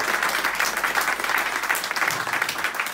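A church congregation applauds in steady, dense clapping that fills the space at an even level throughout, with no voices rising above it.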